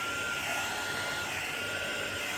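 Air blows steadily onto alcohol ink and isopropyl on a resin tray, a close, continuous hiss of rushing air like a small blower, with no talk.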